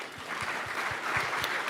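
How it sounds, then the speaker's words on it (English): Brief burst of audience applause for a startup pitch at TechCrunch Disrupt 2023, a steady dense clapping from a crowd in a hall. "Give them a round of applause."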